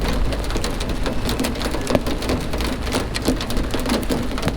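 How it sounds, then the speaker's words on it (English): Dense, steady downpour of rain and hail drumming on a nearby surface on a mountain road, with sharp scattered impacts peppering the constant hiss. "It's hailing"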